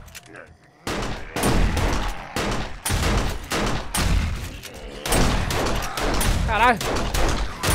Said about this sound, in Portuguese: muito tiro, mané